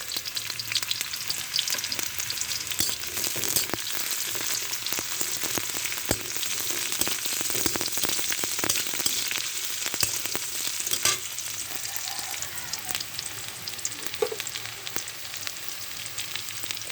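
Black cumin frying in hot oil with chopped onion and garlic for a water spinach (kalmi greens) dish, giving a steady, close sizzle with occasional crackles and stirring scrapes throughout, no talking.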